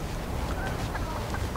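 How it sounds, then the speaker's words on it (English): A regular chicken clucking in the Fortnite video game, a few short clucks over a busy game background, brief and moderately loud. "That's not a golden chicken, that was a regular chicken."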